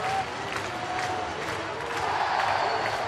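A sold-out baseball stadium crowd at a Pittsburgh Pirates home game against Philadelphia cheers and applauds continuously, a broad, dense roar with scattered whoops rising and falling throughout.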